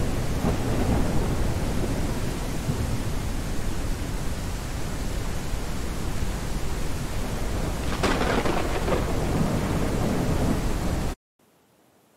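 Heavy rain with rolling thunder in an Unreal Engine 4 stylized environment, a loud continuous wash that swells with a sharp crack near the end before cutting to silence.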